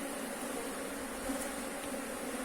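Honey bees buzz in a soft, steady drone around an opened beehive, the hum constant and fairly faint with no voices.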